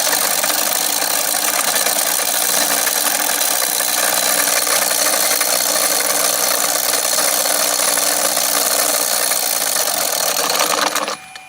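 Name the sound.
spin/counter-spin magnet device spinning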